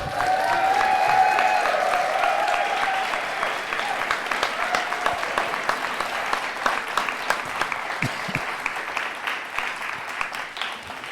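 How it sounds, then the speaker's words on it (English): A festival symposium audience gives sustained, even applause that fills the room and slowly thins out over about eleven seconds, with a faint voice early on. "Will you give me a big clap, please?"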